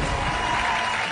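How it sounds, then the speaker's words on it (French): A television hypnosis show audience claps in dense, steady applause, loud and close, filling the whole moment without a break. "Encore une fois, il mérite une bonne main à l'applaudissement"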